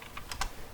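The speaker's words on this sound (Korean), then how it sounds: "쉬프트를 누르고 엔터를 치시고" A few quick clicks on a computer keyboard as the shift and enter keys are pressed, close and soft, about three distinct taps within a second.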